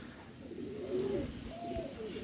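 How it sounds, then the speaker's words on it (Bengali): Aliwala pigeons, a Pakistani breed, give a low throaty coo that rises and falls in two short phrases, close and fairly quiet over a faint background hiss. "এই যে আমার রানিং আলিওয়ালা কবুতর"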